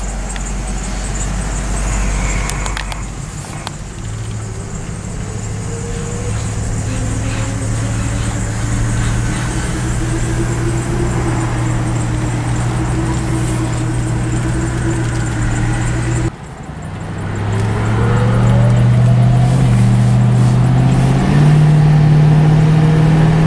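A Ford Crown Victoria P71 Police Interceptor accelerates hard, its engine note climbing steadily before a brief dip at a gear change, then pulling strongly again with louder, rising revs.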